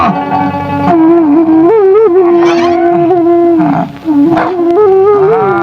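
A dog howls long and loud in a wavering, rising and falling wail from a Pakistani film, close and dominant, with a brief break before the howl resumes.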